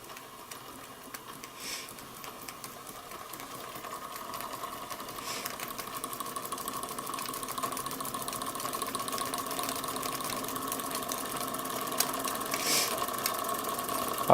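A Weeden Model 647 toy steam engine with a cast base runs steadily, a busy mechanical chatter and hiss that grows slightly louder over the span, heard alone without voices.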